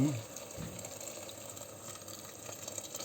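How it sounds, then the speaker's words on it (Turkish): Hot water pours steadily into a cooking pot of pea stew, a continuous broadband splashing and gushing that stays at an even level throughout. "Sıcak suyumu ilave ediyorum."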